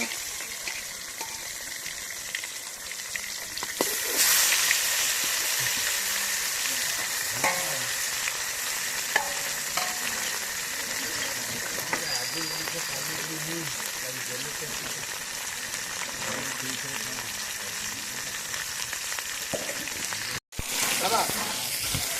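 Fish frying in a pan at home, a steady close sizzle running throughout with occasional stirring clicks and faint voices in the background, the sizzle swelling louder a few seconds in.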